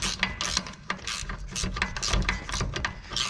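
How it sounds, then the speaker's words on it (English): A ratchet wrench clicks in quick, uneven bursts during a repair on a Kubota SVL quick attach, crisp close-up ratcheting with brief pauses between strokes. "And my ratchet wrench going the wrong way."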